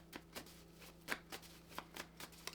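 A journal prompt card deck being shuffled, a quick run of soft papery riffles and flicks repeating in short bursts, close and quiet with no talking.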